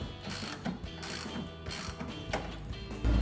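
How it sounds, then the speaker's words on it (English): A ratchet tightens the headlight mounting bolts on a 2007-2014 Chevrolet Silverado 2500, a quick run of close, crisp clicking strokes in a steady rhythm, paused briefly between pulls. "once I have all the bolts in, now we're ready to put a good tighten on it"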